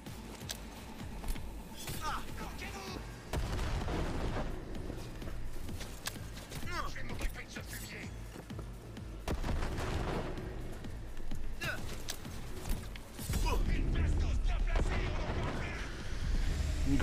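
A grenade goes off in the video game Cyberpunk: a deep, heavy boom rolls in late and lingers as rumble, following scattered gunfire and footsteps, with a voice talking over the action.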